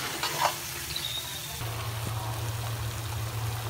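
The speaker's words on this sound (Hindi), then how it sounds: "मैंने जो टमाटो को कट किया था अब उसे इसमें डालने हैं और इसे तब तक भूनना है जब तक इसमें टमाटर अच्छे से गल ना जाए" Chopped tomatoes frying in a pan for mushroom masala give a faint, steady sizzle with a light stirring scrape, a low hum running underneath throughout.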